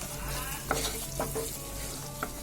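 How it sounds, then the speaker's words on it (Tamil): Mutton sukka masala sautéing in a pan, a steady close sizzle with several sharp scrapes and clinks of a spatula stirring the spices, no voices. "இது ஒரு 1 நிமிஷத்துக்கு நம்ம நல்லா இப்படியே வதக்கிடலாம்."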